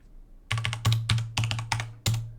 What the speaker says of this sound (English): Start typing average.